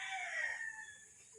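A street comb breed rooster crows once, a clear, fairly close call that rises and then trails off, heard alone with no talk.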